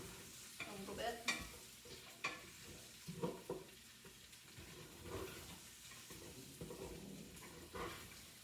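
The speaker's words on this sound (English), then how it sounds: "use a wooden spoon. You want to kind of scrape the bottom of the pan" A wooden spoon scrapes the bottom of a pan while stirring beef stew ingredients over heat, with quiet irregular scraping strokes over a faint background sizzle and no speech.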